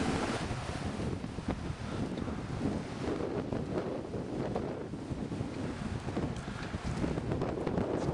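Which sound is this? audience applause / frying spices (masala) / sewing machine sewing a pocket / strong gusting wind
strong gusting wind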